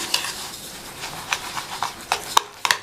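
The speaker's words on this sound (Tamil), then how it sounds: "சேர்த்துட்டு இதை நல்லா மிக்ஸ் பண்ணிக்கணும்." Thick curd being stirred into semolina in a bowl with a spoon, a series of close, wet scraping and squelching strokes in an uneven rhythm, with sharper clinks of the spoon against the bowl near the end.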